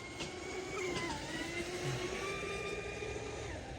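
The small high-pitched motor of an MHZ Lizard P-class RC race boat, Castle 1515 motor on 4S2P batteries, whines steadily at high revs, its pitch wavering slightly, over a constant broadband wash of water and wind noise.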